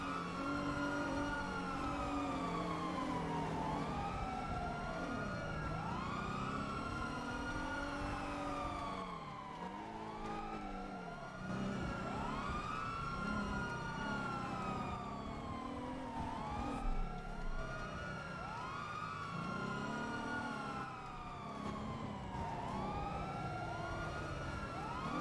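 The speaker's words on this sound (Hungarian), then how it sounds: "Sirénát kapcsoljunk a városba." Emergency vehicle siren in a GTA roleplay game, a police car's siren running in the city: a loud wailing sweep that repeats steadily for the whole stretch over faint traffic noise.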